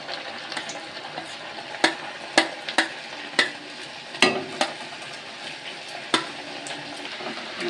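Nimki snacks fry in hot oil, a dense continuous bubbling sizzle broken by several sharp clicks of a metal utensil against the pan.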